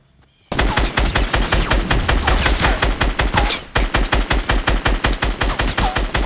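Sustained rapid automatic gunfire in a Fortnite Battle Royale gunfight, loud and close, first a dense continuous burst, then after a brief dip a steady rhythmic string of individual shots, with no talking.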